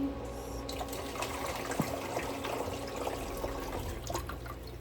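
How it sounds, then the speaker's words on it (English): Water trickles and splashes as it is poured into a home ice maker, a steady close liquid stream with small drips, running continuously with no voices. "Actually, I'm gonna put some more water in there so it can make more"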